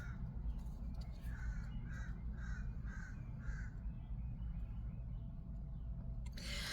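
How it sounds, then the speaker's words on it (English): A crow caws five times in a steady, evenly spaced series over low rumbling background noise, then falls silent before a brief burst of wind or handling noise at the end. "So bird flying away"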